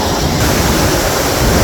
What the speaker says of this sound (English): the water is spewing out below me